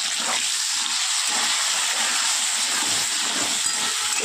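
Pointed gourd pieces fry in hot oil with salt and turmeric, giving a dense, continuous close sizzle and hiss that stays level throughout with no voices.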